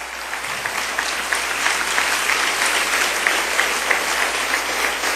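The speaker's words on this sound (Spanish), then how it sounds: "Les damos un aplauso cariñoso de bienvenida." Church congregation giving a warm welcoming round of applause, steady dense clapping filling the room at moderate loudness.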